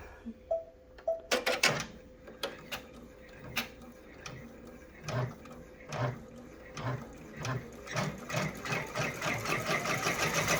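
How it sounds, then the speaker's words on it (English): A sewing machine stitches across the front of a lined zipper bag in short irregular bursts of clicking needle strokes, starting and stopping, then building to a faster continuous run near the end. "See how it puts that perfect stitch right across the front."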